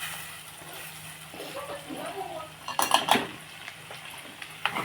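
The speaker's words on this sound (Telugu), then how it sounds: "సరే ఇలా కలిపేసుకుని" A potato fry is stirred in a pan: a metal spoon scrapes and clanks against the pan with a light sizzle, and a louder burst of clatter comes near the middle.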